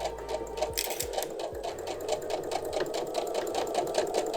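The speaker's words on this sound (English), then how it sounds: "Do a reverse stitch." A sewing machine runs steadily while reverse-stitching over a ribbon on a Thermolam-lined cafetière cover, giving a close, continuous rapid needle chatter over a low motor whir with slight speed changes.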